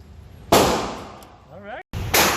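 Gunfire during firearms training on a range: two sharp, loud shots about a second and a half apart, each ringing out with a decaying echo, with a brief quiet gap between them.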